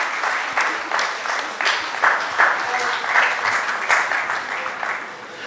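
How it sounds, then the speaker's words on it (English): Audience applause at a conference panel discussion in Mumbai, a steady wash of clapping from a crowd that swells and dips in waves for several seconds, fairly close and filling the room. "Please join your hands to give them a big round of applause,"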